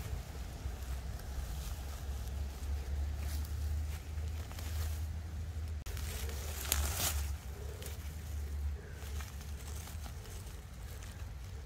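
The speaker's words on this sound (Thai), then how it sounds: "เสียงลมจ้ะ" Wind gusts buffet the microphone in a low, continuous rumble, faint overall, with brief louder rushes midway and no one speaking, outdoors in a Norwegian forest while mushroom picking before rain.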